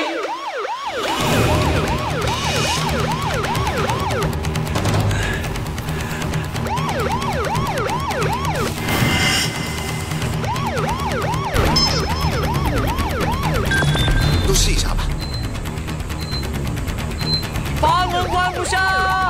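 A loud alarm siren wails continuously, sweeping up and down in repeated cycles, while people shout and talk over it.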